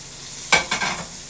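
A thick cracker pancake sizzles in a little butter in a frying pan, with one sharp scrape or flip followed by a couple of softer stirring sounds, brief and close.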